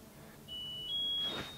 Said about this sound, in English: It was the tumble dryer. It's finished now.